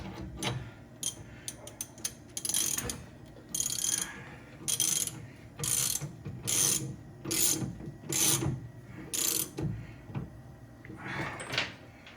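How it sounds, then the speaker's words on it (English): Ratchet wrench clicking in repeated bursts while loosening the outer wheel bearing nut on the failed right front wheel of a 1973 Mach 1, fairly close and loud, with short pauses between strokes and no talking. "Loosening the nut."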